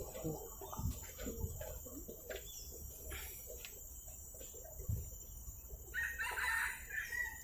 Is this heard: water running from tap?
no